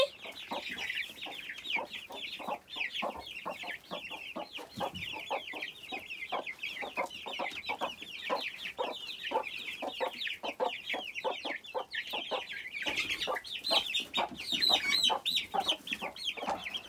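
Chickens cluck steadily and densely for the whole stretch, a busy flock close by with a continuous chorus of short repeated calls.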